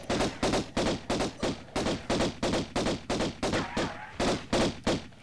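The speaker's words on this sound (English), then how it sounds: "So just keep shooting." Gunfire from the video game Tomb Raider as Pierre is shot, a loud evenly spaced run of about fifteen rapid shots that continues without break.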